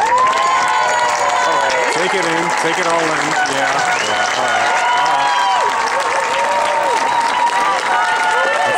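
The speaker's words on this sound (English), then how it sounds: "I would like to ask these students to stand and receive your applause." High school graduation ceremony in 2012, where an audience applauds and cheers for standing students: continuous loud clapping and crowd cheering fill the whole stretch, with voices calling out and a nearby speaker talking over the noise.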